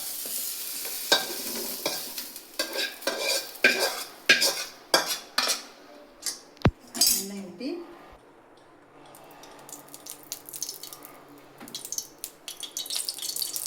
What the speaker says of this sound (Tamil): நல்லா வறுத்துறோம் பச்சை இல்லாமல் வறுத்து எடுத்துறோம்